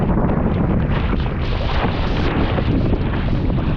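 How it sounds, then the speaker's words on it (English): Strong steady wind rushes across the microphone while sailing an RS600 dinghy on a short course, a gusty roar filling the whole stretch with no voices. "Bit of a gust coming through now."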